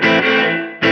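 Guitar played through a Keeley Verb O' Trem in chamber reverb mode with pre-delay, a sustained distorted chord blooming into a delayed reverb wash that swells, fades, then a fresh loud strum near the end.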